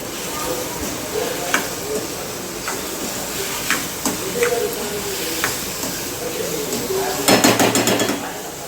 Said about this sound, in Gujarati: આપણે વઘાર કરી નાખીએ બરાબર વઘાર